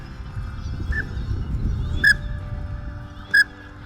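Wild geese flying over during a hunting trip give a few separate honks, two clear calls spaced about a second apart over steady outdoor rumble.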